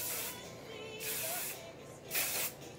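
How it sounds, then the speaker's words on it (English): Hairspray sprays from an aerosol can in three short bursts, each a close, soft hiss with brief pauses between them. "next up, hairspray"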